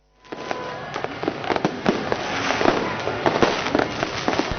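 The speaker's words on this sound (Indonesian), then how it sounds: "suasana pergantian tahun ini kian meriah dengan digelarnya tentu saja pesta kembang api" New Year fireworks bursting over Monas in Jakarta, a dense run of sharp cracks and pops that overlap continuously, loud and fairly close, with no voices.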